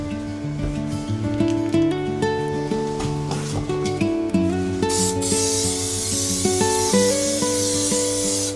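Glue hisses from a spray can onto a sound-deadening panel for a Fiat Ducato van, a bright sustained spray in the second half over a steady tonal backdrop.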